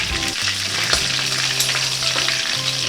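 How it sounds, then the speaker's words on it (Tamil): Fish sizzles and crackles in hot oil in a pan, a dense continuous frying hiss heard up close with some stirring and clatter, and no talking. "இப்போ மீன் பொரிச்சு எடுத்துக்கலாம்."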